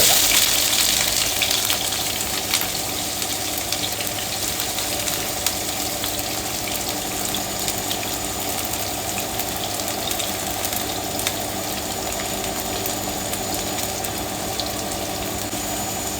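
Chopped onions and shallots hitting hot coconut oil in a heated pan, giving a steady, loud hiss and sizzle that holds throughout with no talking.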